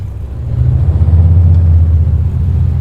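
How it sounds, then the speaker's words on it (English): A farm truck's loud engine runs close by with its hood open, giving off a heavy, steady low rumble that swells slightly after the first half second. "So it's a farm truck. Yes, it's loud."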